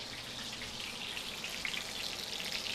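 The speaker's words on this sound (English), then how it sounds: "it's getting kind of close when it starts crackling because that's water coming out of the chicken" Breaded chicken Milanese frying in a pan, a steady bright crackle and sizzle of oil with scattered pops, fairly quiet and continuous throughout.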